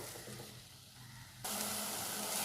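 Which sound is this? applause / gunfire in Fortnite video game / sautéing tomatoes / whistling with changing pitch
sautéing tomatoes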